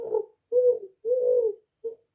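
A played recording of a pigeon cooing: four soft, throaty coos in an uneven rhythm, close and clear against silence.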